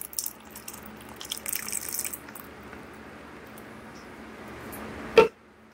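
Alkaline ionized water from a Tyent machine runs and splashes over an organic apple set to soak, a steady faint trickle and patter ending in one louder splash.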